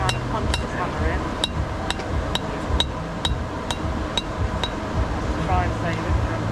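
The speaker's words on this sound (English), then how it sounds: "You can see I'm having to kind of punch this hammer in" A hammer forges an iron spearhead with a run of bright, ringing metal strikes at an uneven pace, close and clear, while someone talks in between the blows.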